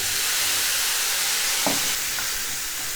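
Mushrooms frying in butter with soy sauce poured in, a loud, dense sizzle filling the whole moment, with a brief splash and a small stir partway through and no voices.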